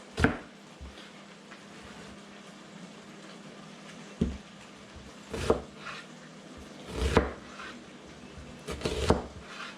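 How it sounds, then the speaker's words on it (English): Knife chopping onions into small pieces on a board, a few sharp separate strikes spread across the clip against low kitchen background noise, with no talk. "I tend to cut the tomatoes a little small, or not the tomatoes, the onions into small pieces"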